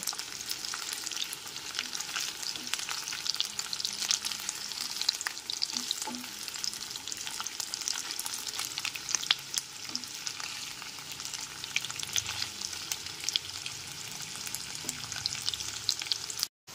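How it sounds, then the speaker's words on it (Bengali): Boiled potatoes frying in oil over a high gas flame for a Kashmiri aloo dum give a constant bright, dense sizzle with scattered crackles, moderately loud and unbroken, with no voices. "সেদ্ধ করে নেওয়া সমস্ত আলুগুলোকে দিয়ে এইবার আলুগুলোকে ভেজে নেব"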